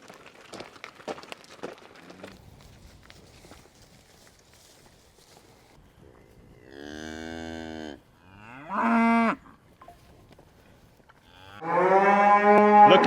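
Dairy cows on a farm moo loudly and long, three drawn-out calls growing stronger toward the end, after scuffling footsteps and movement near a yard gangway.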